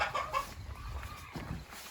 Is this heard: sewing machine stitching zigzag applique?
no